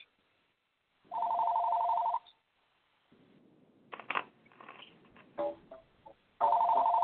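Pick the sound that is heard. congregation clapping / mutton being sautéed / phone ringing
phone ringing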